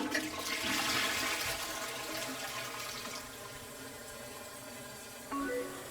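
A toilet flushes with a loud rushing gush of water that tapers into a steady draining and refilling hiss, ending with a brief clunk.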